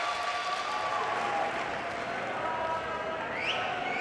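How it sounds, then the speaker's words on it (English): An esports arena crowd at the FACEIT Major in London cheers and applauds in a sustained roar of clapping and shouting, loud and continuous, with an announcer's voice faintly mixed in. "The crowd are going absolutely insane down here."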